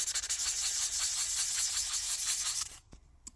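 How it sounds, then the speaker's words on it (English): 240 grit sandpaper scuffs metal parts of a Panavise 350 in fast, steady back-and-forth strokes, a close, bright rasping that continues for several seconds before stopping with a faint knock. "So I've got some 240 grit sandpaper. I'm going to go over everything and key the surface"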